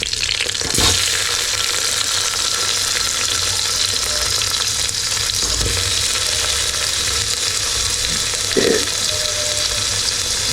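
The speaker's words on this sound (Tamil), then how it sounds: "கடாயோட சவுண்டு." Tomatoes frying in a kadai on a stove in a small bachelor kitchen, a loud continuous close sizzle with a couple of brief clanks and knocks, no voices.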